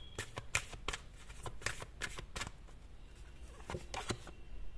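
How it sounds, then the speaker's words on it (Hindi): Tarot cards shuffled close up in a quiet room, a series of sharp, irregular riffling snaps and flicks repeating steadily, with no talking. "एक कार्ड और ले लेते हैं,"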